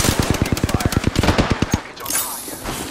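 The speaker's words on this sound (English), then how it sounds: "I'm taking fire." Rapid automatic gunfire from the video game Apex Legends: a fast burst of about eighteen sharp, evenly spaced shots that stops abruptly, followed by a quieter tail of game ambience.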